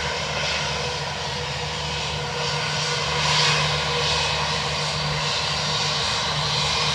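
An airliner's engines at Dublin Airport hold a steady, continuous roar with a low sustained hum, swelling slightly partway through and staying fairly close and loud throughout, with no talk.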